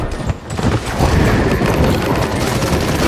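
Dense, loud gunfire from the Paladins video game, a sustained barrage of overlapping shots and bursts with no letup across the clip.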